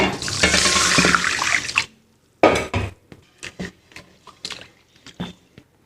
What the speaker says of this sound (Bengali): মুগ ডাল নিয়েছি, মুগ ডালটা আমি ধুয়ে নেব।